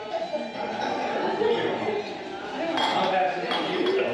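Glasses clink for a rum toast on a Bacardi distillery tour in San Juan, Puerto Rico: bright, repeated close clinks over a lively group talking and chuckling.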